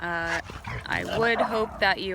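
Several dogs bark, yip and whimper in a home, close and loud, overlapping someone speaking throughout.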